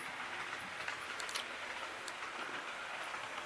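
A model Metro MP36 locomotive rolls along layout track with a soft continuous rumble and faint clicking, heard close and fairly quiet with no voices.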